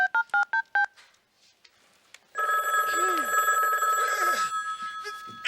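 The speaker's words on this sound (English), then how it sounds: "Too bad he missed his chance to answer the phone." A telephone's DTMF keypad tones beep several times in quick succession, then a loud, sustained electronic phone ring fills the rest of the clip with no talking.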